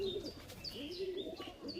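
Kashmadumma pigeons in a loft coo quietly, with a few low rolling calls close by. Faint higher chirps come from other birds in the background.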